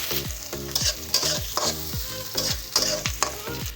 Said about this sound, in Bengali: এগুলো আমি একটু ভাজা ভাজা করবো